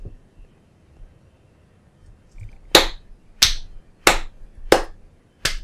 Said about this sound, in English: the claps are just for you